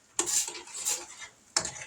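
A spoon stirs a whole package of noodles added to a boiling pot, giving three quick metallic scraping strokes against the pot with brief pauses between them.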